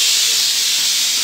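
Pressure cooker cooking dal on a home stove, a loud continuous steam hiss, close and steady, with no voices.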